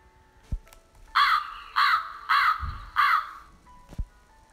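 A crow caws four times in a steady rhythm, loud and fairly close, with a few faint thumps and clicks around the calls and no talking.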